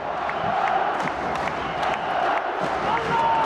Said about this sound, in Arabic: وادي الجمهور اللي بيحرك الصخر من صالة الأمير عبد الله الفيصل